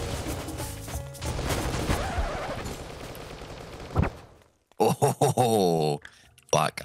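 Bursts of gunfire in the PC shooter Dope Trashcanners: a long rattling stretch of rapid shots, a sharp crack near four seconds, then several short loud bursts separated by brief silences.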